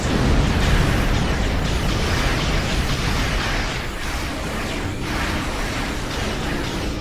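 Repeated torpedo fire in the Star Trek Online space game, a dense run of booming bursts and pops over a constant roar, loud and continuous throughout.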